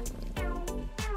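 A cat gives a few short, close meows in quick succession, each with a clear rising-and-falling tone, against a quiet indoor background with no talking.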